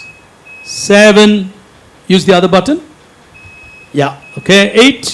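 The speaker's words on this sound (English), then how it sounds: "we'll just try and start testing your buzzer" Electronic quiz buzzers being tested at a regional quiz final: a steady high beep tone sounds twice, faint and sustained, beneath people talking nearby.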